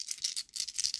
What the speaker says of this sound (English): Can y'all hear this? Can y'all hear this?